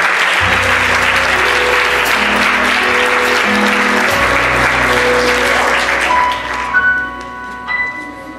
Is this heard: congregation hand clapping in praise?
yes